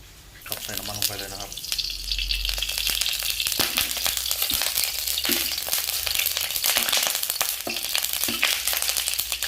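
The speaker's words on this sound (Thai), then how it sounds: "เดี๋ยวเราไปเจียมกระทะผัดกันเลยครับ" Food sizzles and crackles in a hot wok while stir-frying Chinese kale with crispy pork, a spatula scraping and clanking against the pan, continuous and close, with some background noise.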